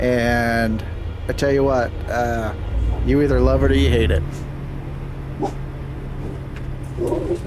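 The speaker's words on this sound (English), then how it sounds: "Sorry about the dogs in the background." A person talks while dogs yip and whimper in the background, with a steady hum of air conditioning underneath.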